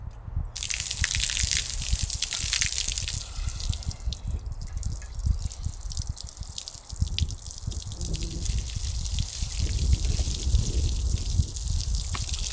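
Garden hose water flushes through a removed, soot-clogged car diesel particulate filter during an off-car DPF clean with Wynn's cleaner: a close, continuous rush of splashing, gushing water with dripping, steady throughout.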